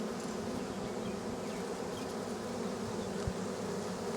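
A crowded honeybee hive under robbing attack, defending bees and robbers buzzing in a dense, steady drone held close up throughout, with one brief low thump near the end.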